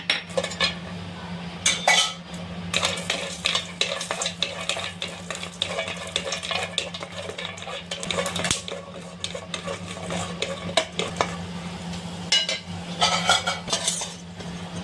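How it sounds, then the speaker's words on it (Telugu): Almonds lightly roasting in a pan for sago laddu payasam, with steady metallic scraping and clinking of a spoon stirring against the pan throughout, a faint low hum underneath, and no talking. "ఈ బాదాము లైట్గా వేపు తీసుకోవాలి"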